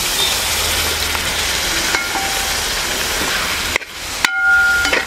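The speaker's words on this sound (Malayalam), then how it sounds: "ഇനി നന്നായിട്ട് മിക്സ് ചെയ്ത് കൊടുക്കാം." Chicken with pepper and yogurt being stirred in a hot pan, a steady sizzle and scrape of frying that is broken by two brief clatters near the end, with no talking.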